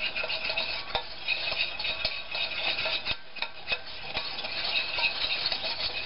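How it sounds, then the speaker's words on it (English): Flour being stirred into fat for a roux in a pan, a steady soft scraping and swishing with light utensil ticks against the pot, close and continuous with no talk. "And this is making a roux."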